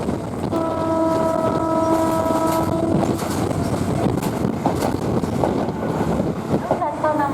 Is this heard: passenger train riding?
yes